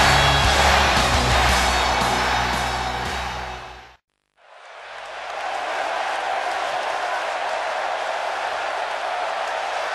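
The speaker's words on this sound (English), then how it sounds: "Clearly, this SmackDown crowd can't wait for this one to get started." Arena crowd in the WWE 2K16 video game before a SmackDown match: a loud, continuous roar of cheering that drops out briefly midway, then swells back and holds steady.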